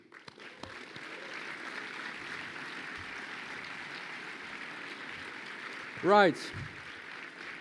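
Steady applause from a graduation ceremony audience fills the clip at moderate level, with a brief spoken word near the start and a short tonal sweep near the end.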